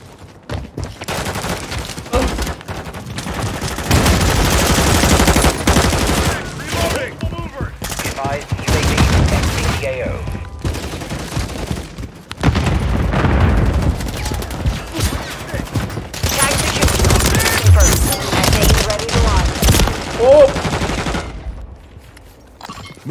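Heavy gunfire in the video game Call of Duty Modern Warfare 3, dense automatic bursts and rapid volleys that come and go in loud clusters with brief quieter gaps.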